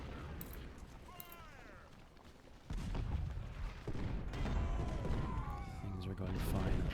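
Civil War cannon fire in an artillery duel at Gettysburg in the Ultimate General strategy game, with rumbling booms and a heavy blast that lifts the din partway through, all under steady talking.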